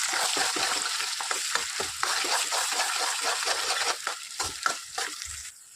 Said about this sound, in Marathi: त्यामध्ये आता हे कोरडं वाटण टाकलं आणि चांगल्या प्रकारे भाजून घेऊ.